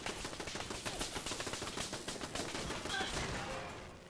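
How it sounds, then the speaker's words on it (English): A turret in the Fallout 4 video game fires exploding rounds in rapid, rattling bursts of repeated shots, fairly distant and dense, continuing throughout. "What is that, exploding rounds?"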